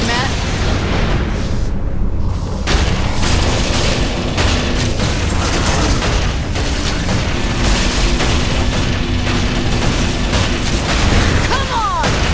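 Turret guns fire in Saints Row IV amid a dense, continuous din of booms and bursts, loud and sustained throughout the action with no pause.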